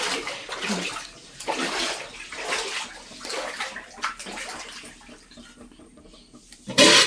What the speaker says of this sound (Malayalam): അങ്ങനെ അരി കഴുകുക